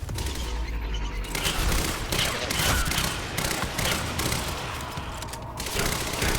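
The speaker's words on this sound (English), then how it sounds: "Minigun." Minigun fire in the video game Quantum Break, a loud, dense and sustained burst of rapid gunshots with booming impacts running for the whole stretch.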